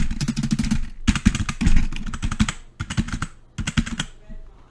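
Fast typing on a cheap, plasticky computer keyboard produces close, clattery bursts of keystrokes separated by short pauses, with no one speaking over them.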